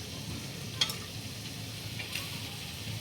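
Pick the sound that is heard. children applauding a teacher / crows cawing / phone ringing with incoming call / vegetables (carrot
vegetables (carrot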